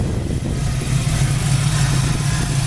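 A 1973 Chevrolet Camaro Z28 engine runs at a steady idle, a loud, even low rumble close by with no talking.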